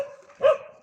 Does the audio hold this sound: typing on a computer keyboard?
no